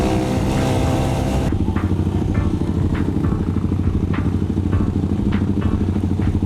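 Kawasaki Z1000R motorcycle engine running loud and close, a steady deep rumble with a rapid pulsing beat, preceded by a brief rev at the start and accompanied by light clattering ticks throughout.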